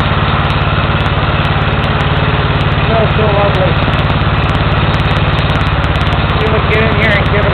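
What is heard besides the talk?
smoking engine idling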